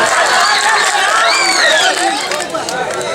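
An audience at an Urdu mushaira poetry gathering in Nariyaon Khas, Jahangirganj, Ambedkar Nagar, responds with loud, dense crowd noise: steady clapping and cheering mixed with shouting voices that fill the whole clip, easing slightly near the end.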